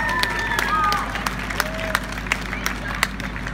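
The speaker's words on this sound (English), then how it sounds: "Big round of applause." Applause from an outdoor crowd at a tenth-birthday cinema event in a town square, clapping and scattered cheers with some sharp individual claps standing out, plus faint crowd chatter underneath.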